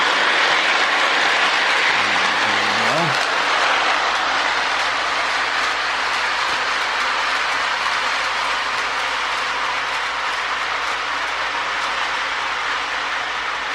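A Marx E7 Great Northern Empire Builder model train rolls past with a continuous rumbling whir and light clatter of wheels on track, loud and close, holding steady as it goes by.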